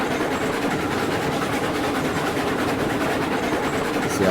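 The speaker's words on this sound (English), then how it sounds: "It's kind of strange driving a locomotive, you know, large locomotive with a large train on some of this track." A large locomotive pulls a long train in the railway simulation game RailRoads Online, giving a steady, loud rumbling roar with faint rhythmic clatter throughout.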